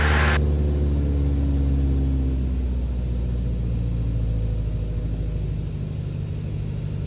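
A small aircraft engine holds near 1500 RPM with a loud, steady low drone and rumble that eases slightly over several seconds after a brief higher burst at the start.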